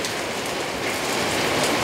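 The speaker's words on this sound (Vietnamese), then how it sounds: "Trời thì cũng đang mưa nên hơi có tiếng ồn chút xíu" Steady rain pours outdoors at a bonsai and yellow apricot tree yard in Can Tho, Vietnam, a dense continuous hiss of drops hitting surfaces, close and fairly loud with no voices.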